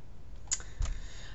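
Two crisp computer mouse clicks, close and distinct, separated by a brief pause against a quiet room background.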